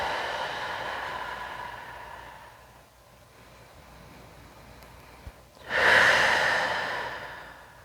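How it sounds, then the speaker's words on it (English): Long, slow breathing during a restorative yoga stretch: a drawn-out exhale fades into quiet, then a strong close inhale rushes in near the end, with no talking. "Nice, long, slow breaths."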